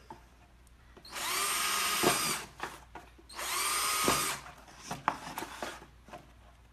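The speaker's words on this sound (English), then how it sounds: "Power tools are fun." A power drill whirs in two sustained bursts of about a second each, followed by light tapping and handling noises nearby.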